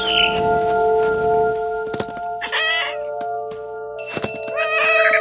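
A cat in the video game What Remains of Edith Finch gives two short, clear meows a couple of seconds apart, over steady game music and sharp clinking accents.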